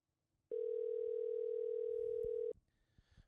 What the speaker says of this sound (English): We could call Patrick Hakeem